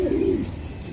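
A single pigeon coo, a racing pigeon of the red check kind kept for sale, rings out close and clear in the first half, then fades into a low background hum.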